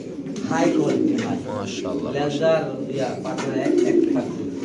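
Pigeons coo at a pigeon market stall among fancy breeds, throaty calls rising and falling close by while people talk over them throughout.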